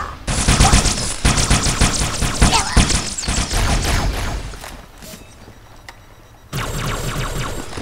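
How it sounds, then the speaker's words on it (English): Rapid automatic gunfire in Halo 2, loud and close, firing in dense sustained bursts that stop briefly near the middle, then resume as another steady stream. "Who the heck is shooting at me?"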